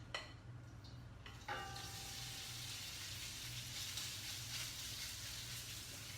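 Cornstarch-coated tofu pieces fry in hot oil in a wok, a steady broadband sizzle that jumps louder after a brief onset and holds evenly, close and alone with no talking.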